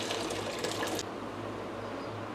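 Boiling water poured into an air fryer basket during cleaning with bicarbonate soda and dish soap, a close, steady gushing pour that cuts off after a second, leaving a softer liquid bubbling.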